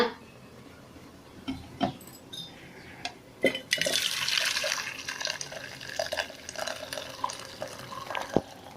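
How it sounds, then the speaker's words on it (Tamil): Soup is strained, pouring and splashing into another vessel, trickling unevenly, with occasional clinks of metal utensils and pots nearby. "இப்போ சூப் எடுத்து வேற ஒரு பாத்திரத்துக்கு வடிகட்டிக்கலாங்க"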